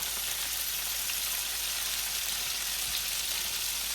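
Golden chicken cutlets fry in a pan with a steady, dense sizzle and crackle of hot oil, continuous and close with no talking.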